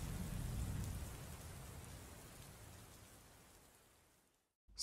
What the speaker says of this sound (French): Quand la pluie tombait à grosses gouttes sur les feuilles des arbres